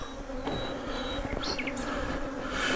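Honey bees buzz around an open hive during an inspection, a close, steady insect drone with individual bees whining past now and then.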